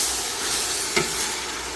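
Vegetable white bean tomato soup being stirred in a pot, a soft low scraping swirl with one brief clink partway through, alone and fairly quiet.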